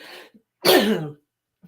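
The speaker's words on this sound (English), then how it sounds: "I have a cough and I'm coughing a little bit." A single rough cough, preceded by a short throat-clearing, in an otherwise quiet room.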